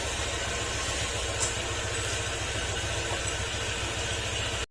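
Honda Click 125 scooter engine running noisily with no pulley fitted, a steady close idle with strong low rumble and mechanical rattle throughout, no talking.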